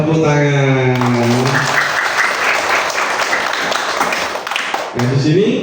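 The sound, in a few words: classroom applause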